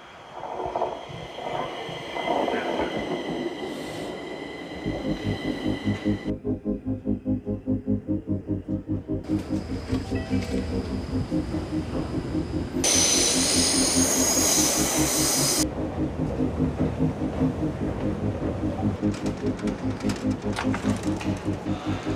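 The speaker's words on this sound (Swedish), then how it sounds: "nu tar vi tunnelbanan" A Stockholm subway train rolls along with steady rhythmic wheel clatter and rumbling carriage noise, rising and falling in loudness, with a bright metallic squeal of wheels partway through, close and loud throughout with no talking.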